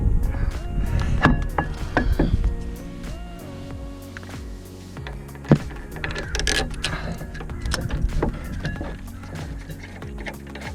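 Ratchet working on the front brake caliper bolts of a Lotus Evora S, quick rapid clicking bursts and metallic clanks in a garage, close and moderately loud, with no talking.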